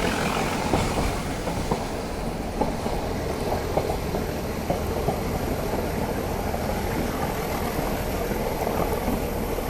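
Nilgiri Mountain Railway toy train running along its tracks near Ooty, a steady loud rumble of wheels and carriages with faint rhythmic clicks, heard from aboard and continuous throughout, with no voices.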